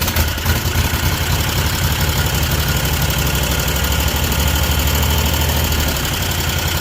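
A smoky engine keeps idling with one spark plug pulled, a loud, rough and uneven low rumble that knocks and vibrates steadily throughout, close by and with no voices.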